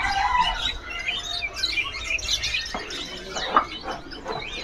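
AF canaries chirp and tweet continuously at a bird seller's, with overlapping bright calls and twitters at moderate volume over a busy background.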